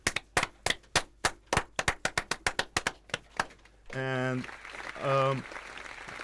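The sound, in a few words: audience applause for student team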